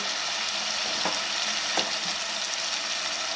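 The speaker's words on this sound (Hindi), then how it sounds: "मैं बहुत अच्छी तरह भून लूँगी" Achari chicken and potatoes with fennel seeds fry in a pan, giving a steady, close, dense sizzle throughout with a couple of soft stirring knocks.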